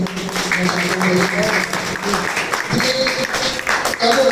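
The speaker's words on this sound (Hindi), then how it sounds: "उनके लिए एक बार जोरदार तालियां" Audience applause at a community memorial day program, a burst of clapping from a gathered crowd with voices and talk mixed in, loud and uneven throughout.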